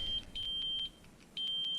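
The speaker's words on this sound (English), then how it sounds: "We're going to hold the button and hit the flash. You'll hear that beep." Short electronic beeps from a pixel combat lightsaber as its volume settings are cycled, sounding in two quick clusters of bright, clear tones over a quiet background.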